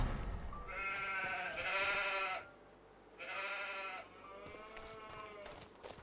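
Livestock at an animal dealership in Farming Simulator 25, with sheep or goats giving drawn-out bleats in two clear bursts, moderately close, then softer calls over quiet ambience.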